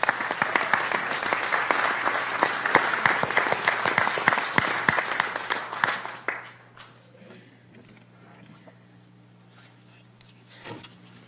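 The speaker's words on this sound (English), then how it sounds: "So they also deserve a round of applause for them as well." Applause from the audience at a county commissioners court meeting, a dense, steady clapping for about six seconds that then fades into quiet room tone with a few scattered claps.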